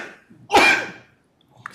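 A single sharp, loud sneeze bursts out close by in a quiet meeting room, preceded by a short inhale and followed by a faint breath.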